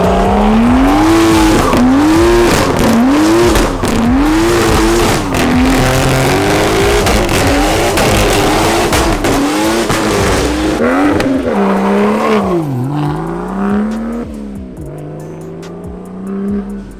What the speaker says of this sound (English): So Cristian can do, crazy stuff with his car, like this.